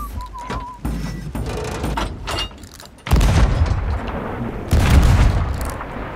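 Heavy booming blasts of ship cannon fire in Sea of Thieves, two big thumps standing out among rumbling and clatter in a game battle.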